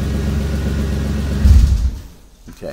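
A 2007-2009 Kia Sorento engine rumbles steadily at idle, swells briefly, then cuts off and fades into near silence, followed by a faint mechanical click.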